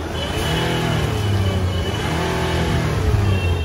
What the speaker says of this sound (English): The air vents open up as the engine has begun a roar.